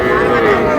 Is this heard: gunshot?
no